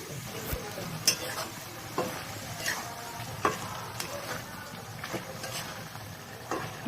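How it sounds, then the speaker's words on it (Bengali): Boiled cauliflower is stirred and fried in a pan, with a soft, steady sizzle broken by repeated sharp scrapes and knocks of the spoon. "এবং এবার সেদ্ধ হয়ে গেছে যেটা ফুলকপি, সেটা ঢেলে দিতে হবে"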